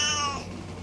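A cat meows once, with a bright, harmonic cry that fades quickly into faint room noise, close and fairly loud.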